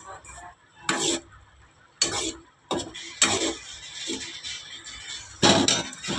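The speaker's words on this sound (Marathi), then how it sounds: "मी मॅगी बनवतोय मस्तपैकी." Maggi noodles cooking in a pot, heard as several separate bursts of metallic clatter and scraping, likely utensil against pot, with quiet gaps between them.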